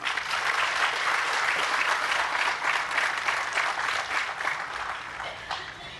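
A large audience applauds at a Hindi-language talk, with dense, steady clapping filling the whole stretch and no voices above it.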